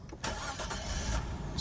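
A 2000 Nissan Skyline GT with 42,000 original miles cranks and starts, then settles into a steady, smooth idle close by.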